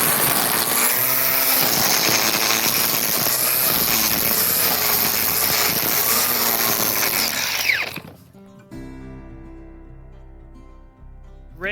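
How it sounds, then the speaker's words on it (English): A string trimmer buzzes loudly and steadily through overgrown garden grass for about eight seconds, then cuts off, leaving quieter background noise. "First, we're going to trim the grass that's currently in place."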